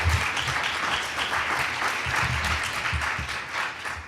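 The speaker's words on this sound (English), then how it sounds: "Ladies and gentlemen, round of applause for our panel for being here with us today." Audience members at a panel discussion on journalism and poverty applaud the panelists, a full, lively burst of many hands clapping close by, steady and unbroken with no talking over it.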